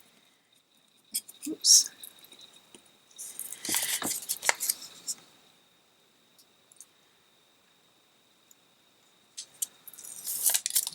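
Scissors trim the corners off a handmade DIY travel palette for tube paints, giving short crisp snipping bursts close by with quiet pauses between them; a voice briefly speaks once.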